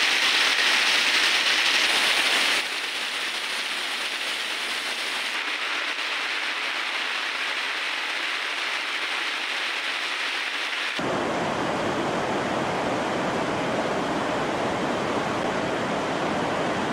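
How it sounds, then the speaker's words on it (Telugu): Very heavy rain pouring down during severe flooding in South Tamil Nadu, a dense, loud, unbroken roar of downpour with the sound shifting abruptly in character partway through, and no voices. "అసొంటిది 95 సెంటీమీటర్ల వాన అంటే ఎట్లుంటదోల్లా?"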